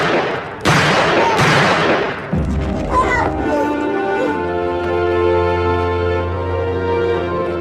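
Sharp, loud pistol shots crack close by in a movie scene, followed by a lingering sustained tone that rings on to the end.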